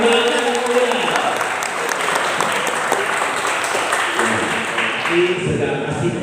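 A hall audience at a Quran quiz final claps steadily for several seconds, a dense sustained round of applause, with a voice briefly audible near the end.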